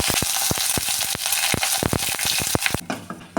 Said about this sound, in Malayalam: വറ്റൽമുളകും കറിവേപ്പിലയും കൂടി ഇട്ട് കൊടുക്കുവാണ്.